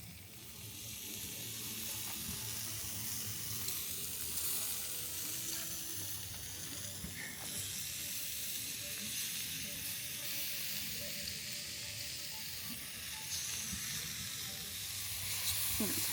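Food sizzles steadily over a campfire on a chilly winter night, a continuous frying hiss with faint crackle running throughout.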